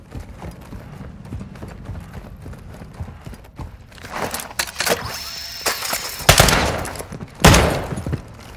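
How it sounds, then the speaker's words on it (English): Gunfire in Call of Duty: Modern Warfare 2 DMZ, a mix of close sharp shots and bursts over a busy background of rattling footsteps and scattered distant fire, growing louder toward the end. "You are taking effective fire."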